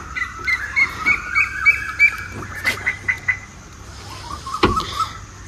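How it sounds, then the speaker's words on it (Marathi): Early-morning birds around 4:15 am in Kolhapur call in a quick series of bright, rhythmic chirps, followed by scattered squawks and distant calls over a quiet background. "पक्ष्याच्या आवाजाने एकदम चांगली सकाळ झाली।"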